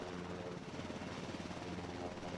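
Surion helicopter on a flight test, its rotor and engine giving a steady, dense whir that fills the whole stretch at constant loudness, with a faint voice under it.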